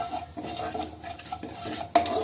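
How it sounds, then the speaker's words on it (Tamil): Carom seeds, shahi jeera and fennel sautéing in hot oil in a pan, with a soft sizzle, stirring scrapes and light utensil clinks, including one sharper clank near the end. "ஜஸ்ட் ஒரு ஃபியூ செகண்ட்ஸ் இதை சாட்டே பண்ணுங்க."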